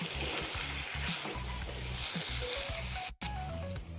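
Tomato thokku cooks in a pan with a close, continuous sizzle and rhythmic stirring scrapes. The sound drops out briefly partway through.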